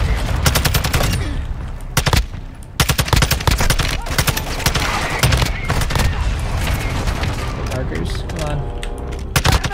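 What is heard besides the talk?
gunfire in video game Call of Duty MWII DMZ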